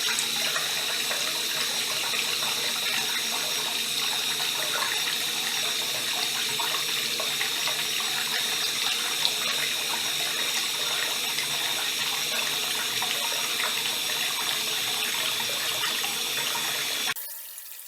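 A tap runs steadily while a tattooed hand is washed with antibacterial soap, a loud close stream of splashing water that continues unbroken and cuts off at the very end, with no talking.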